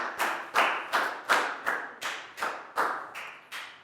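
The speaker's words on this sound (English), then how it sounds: "Big round of applause." Slow, evenly spaced hand claps from a Year 4 classroom, about ten crisp claps spread over a few seconds, fairly close and without any talking.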